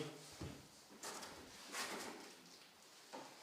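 A Dremel 4000 rotary tool's carrying case has its accessory drawer pulled open, giving a few short sliding, clattering bursts close by in a quiet room, with no talk.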